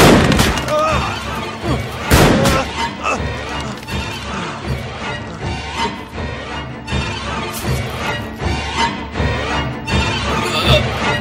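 Loud, dense movie gunfire with crashing booms and sharp repeated bangs, heard up close in a dramatic action scene, with a voice shouting over the shots.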